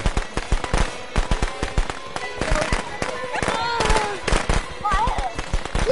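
Rapid crackling bursts of firecrackers in the game Friday the 13th pop in dense, uneven volleys, fairly loud, with chirpy tonal effects and voices talking over them.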